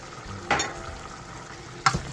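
Meat for dinuguan being stirred in a pot, two distinct scraping clanks about a second apart over a soft, steady sizzle, with no talk.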